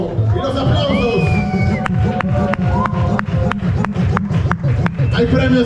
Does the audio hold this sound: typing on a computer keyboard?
no